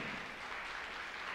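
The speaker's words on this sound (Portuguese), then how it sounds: "Dá uma salva de palmas a Cristo Jesus." A church congregation applauds in a dense, steady wash of clapping from many hands. It sounds distant and fairly faint, with no talk over it.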